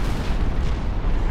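Heavy artillery volley in the Supreme Commander 2 strategy game, a dense rumbling barrage of booms packed close together and loud throughout the short burst.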